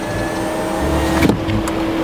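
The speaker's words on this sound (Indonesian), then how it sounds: "udah tutup jendela" A car's power window hums shut inside the parked vehicle, a short motor whine over the low engine idle that ends with a soft thud as the glass seals.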